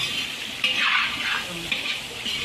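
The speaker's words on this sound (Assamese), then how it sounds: "এয়া মাছৰ পেটু ভাজি বনাই আছে মছলা দিছে ধুনীয়াকৈ" Fish belly frying with spices in a pan gives off a continuous bright sizzle, close and fairly loud, with a few stirring swells.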